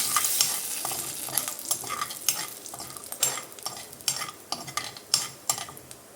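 Tomato pickle tempering sizzles and fries in a pan over a low flame as a spoon stirs it repeatedly, each stir giving a sharp scrape over the steady crackle of hot oil.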